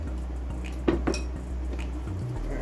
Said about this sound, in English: And we're going to stir it all around